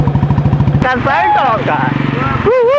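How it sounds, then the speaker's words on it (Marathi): A Royal Enfield Bullet motorcycle pops and crackles through its exhaust, a rapid, loud burst of bangs at first, then fading under excited talking voices. "आता बघितलं ना कशा फाटाकडे वाजून चाललाय तो"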